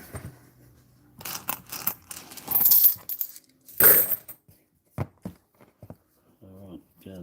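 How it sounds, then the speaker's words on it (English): Coins clatter as they are dropped into a small bucket, a handful of bright metallic clinks and jingles in short bursts, with a person talking between them. "Put the coins in."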